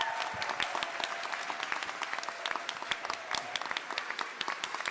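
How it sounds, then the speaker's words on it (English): An audience claps steadily at a panel on transnational labor organizing, a dense, moderately loud patter of many hands with no voices over it. "Round of applause."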